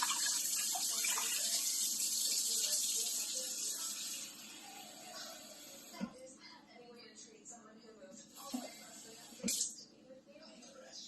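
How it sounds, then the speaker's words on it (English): Water pours steadily from a tap or jug for a simple syrup of sugar and water, a bright hissing stream that tapers off, followed by a few clunks of containers, with a person talking over it. "So I got 4 cups of sugar, and I'm going to put 5 cups of water."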